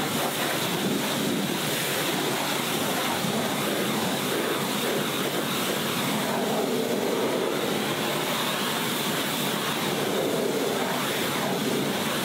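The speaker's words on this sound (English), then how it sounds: "the first step for the bodywork was to utilise the pressure washer to remove as much dirt and grime as possible" A Kranzle K7 pressure washer hisses in a steady, loud, unbroken roar of spray against the bodywork of a Lamborghini Huracan Performante, the dense wash of noise filling the whole stretch without pause.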